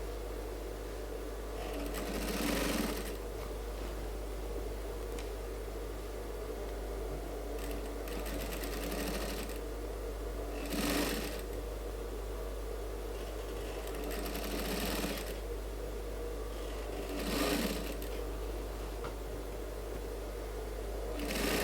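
Sewing machine stitching a suit seam, a long steady run of rapid stitching over a constant low hum, broken by several brief louder bursts of handling noise.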